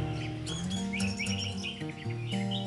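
An orange-headed thrush (anis merah), a caged songbird, sings bright chirping and whistled phrases in quick bursts, set against a steady low humming background.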